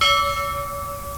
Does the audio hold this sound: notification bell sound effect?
yes